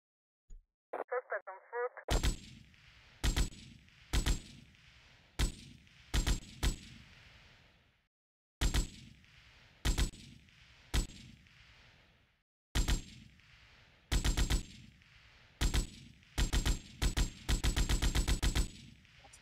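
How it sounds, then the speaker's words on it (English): M60 machine gun fire in the video game Grand Theft Auto: Vice City, repeated loud bursts of rapid automatic shots separated by short pauses, with one brief electronic beeping tone just before the first burst. "The M60's got such bad recoil."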